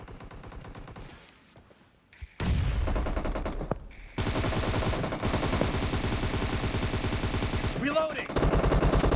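Automatic weapons fire in a PUBG Mobile match, with loud, dense rapid bursts rattling close by after a quieter opening and continuing almost without pause, while voices talk under and between the shots.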